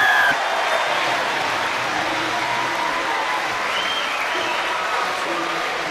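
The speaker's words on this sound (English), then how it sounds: "Well, it gets the applause from the faithful, Danny Orr." Rugby league crowd at a Harlequins versus Leeds Rhinos match in 2007 applauding a try, steady broadband clapping from a large stadium audience that holds at an even level throughout.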